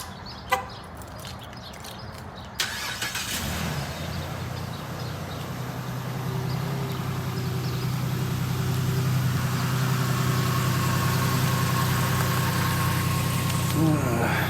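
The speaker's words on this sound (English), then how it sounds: "So let's get this Jeep started and get up there." A Jeep engine cranks over with a short burst, catches and settles into a steady low idle that runs on loudly and close, outdoors on a chilly morning, with a rooster and chickens faintly audible in the background.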